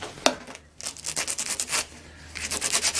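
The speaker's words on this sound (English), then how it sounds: "you want to kind of like finish it off with a little bit of sandpaper" Sandpaper is rubbed over the cut edges of a collapsible hula hoop in a quick series of short, scratchy strokes, close and fairly quiet, with no talking.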